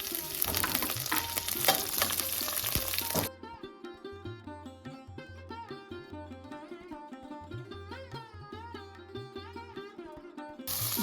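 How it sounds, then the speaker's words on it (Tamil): Cumin, chana dal, urad dal and dried chillies tempering in hot oil give a brief bright crackling sizzle for about three seconds, which then gives way to melodic background music with faint kitchen sounds. "இப்போ ஜீரகம், கடலைப்பருப்பு, உளுத்தம்பருப்பு, காஞ்ச மிளகா இதெல்லாம் சேர்த்து வறுக்கணும்"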